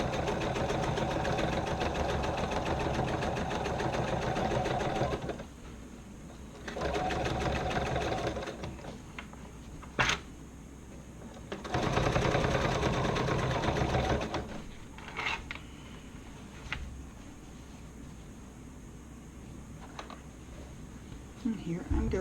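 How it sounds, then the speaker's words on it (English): A sewing machine top-stitches over the flap area of a sassy shoulder bag, running in long steady bursts with brief pauses and clicks, a voice talking in between. "we need to top stitch over the flap"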